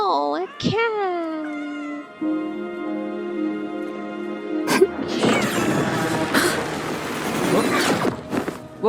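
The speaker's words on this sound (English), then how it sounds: "Oh, a cat!" A cat in the video game Wuthering Waves gives a few clear, drawn-out meows near the start, then a loud burst of crashing, clattering game noise takes over.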